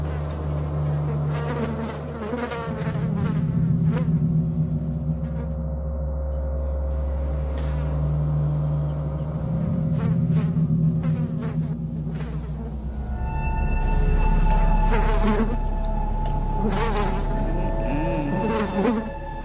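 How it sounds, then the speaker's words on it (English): Many houseflies swarm inside a house, a dense, continuous buzzing drone that swells and fades with bursts of louder nearby wingbeats, with no voices. "there are flies swarming all over their house"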